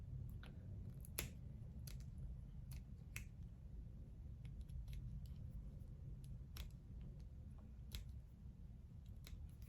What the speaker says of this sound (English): So I'm going to trim a little bit more around the edge here.